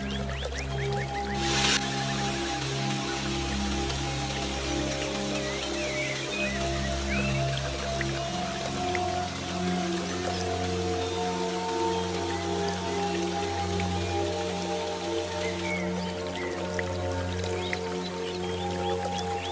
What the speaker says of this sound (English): the splashing sound of the waterfall